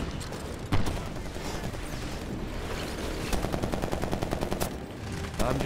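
Automatic gunfire in Medal of Honor: Warfighter, with scattered single shots followed by a rapid burst of closely spaced cracks near the middle and end, loud and close over a busy combat background.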